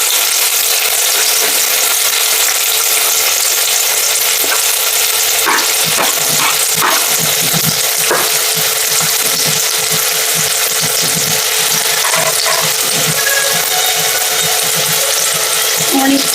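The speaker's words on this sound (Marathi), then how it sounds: "कांदा ब्राऊन करायचा नाही, फक्त सॉफ्ट होईपर्यंत परतायचा." Onion and green chili sauté in hot oil for egg bhurji, a steady loud sizzle with scraping stirs from a spatula breaking in irregularly partway through.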